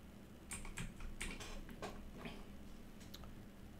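Keys on a computer keyboard are typed in short irregular bursts of crisp clicks, close and fairly quiet, with no talking during the keystrokes.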